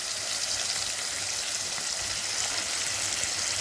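Tomatoes sauté in a pan, making a dense, even sizzle that holds steady at moderate loudness throughout, with nobody talking.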